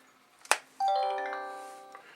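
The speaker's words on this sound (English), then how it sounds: "It's the sound of a flip phone." A vintage Samsung flip phone makes a short click, then plays a bright chiming ringtone of sustained tones that slowly fade, loud and close with nothing else around it.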